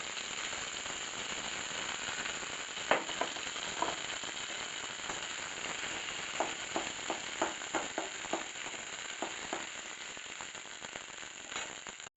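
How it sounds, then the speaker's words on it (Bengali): Ground pumpkin-leaf paste sizzles in oil in a wok, a steady crackling hiss with scattered sharper pops and ticks throughout, no voices. "কড়ার মধ্যে তেল দিয়ে দিলাম,"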